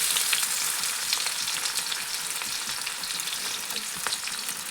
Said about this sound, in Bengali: এরপর দিয়ে দিচ্ছি পেঁয়াজ কুচি